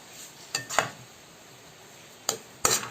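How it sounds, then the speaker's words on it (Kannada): A spoon scrapes and knocks a few times against a pan of potato masala filling for aloo bonda, which cooks on a slow flame. The scrapes come in short isolated strokes over a steady background hiss. "ಈಗ ಸ್ಲೋ ಫ್ಲೇಮಲ್ಲಿ ಇಟ್ಟು ನಾವು ಮಿಕ್ಸ್ ಮಾಡಬೇಕು"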